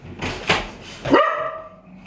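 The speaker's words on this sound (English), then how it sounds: "Right, that's the dog. Calm down." A dog barks indoors in a living room, a few loud, close barks in quick succession, the last one rising into a drawn-out yelp that tails off.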